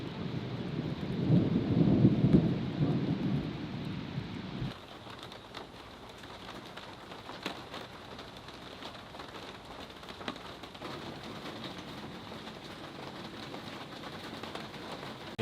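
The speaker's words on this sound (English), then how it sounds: "It's raining." A rain shower sweeps over a boat: a dense, loud hiss of rain for the first few seconds, then a steadier, softer patter with scattered drips and taps continuing throughout.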